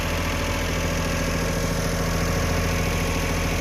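A Honda Acty mini truck engine idling with its compartment open, a steady close mechanical hum and rapid even chugging that holds constant throughout, with no voices.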